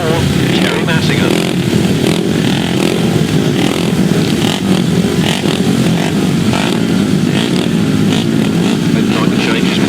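Several 350cc solo grasstrack motorcycles at a 2005 race meeting roar steadily with loud, raspy, continuous engine noise, and an announcer's voice talks over it.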